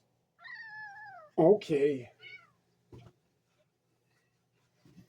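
A cat meows in a long, rising-and-falling cry, followed by a louder strained meow, then quiet with a brief spoken word.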